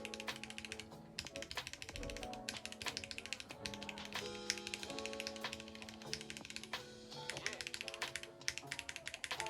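Fingers type rapidly on an ID80 Crystal Edition mechanical keyboard fitted with ABS keycaps, making a dense, continuous run of close, crisp clacks with brief pauses between bursts.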